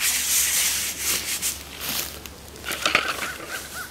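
Brush scrubbing lichens and debris off a soft soapstone grave marker, close rough scraping strokes in uneven bursts, fairly quiet and alone.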